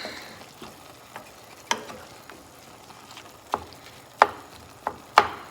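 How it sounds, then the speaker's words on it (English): Ground meat sizzles in a pan while a spoon scrapes, chops and taps against it, giving scattered clicks and knocks over a soft, steady fry. "you just keep stirring it and chopping it with your spoon"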